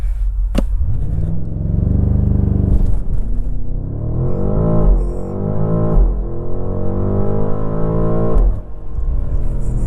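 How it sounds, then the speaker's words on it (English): BMW M8 Gran Coupe from 2024 launching hard from a stop, its engine roaring loudly and climbing steadily through gears with rising revs for the full duration, close and dominant inside the cabin. "Now it does a 3-second flat 0-60, so let's try this out."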